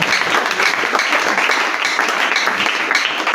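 A church congregation applauds loudly and steadily, a dense wash of many hands clapping at close range with no break for the whole stretch.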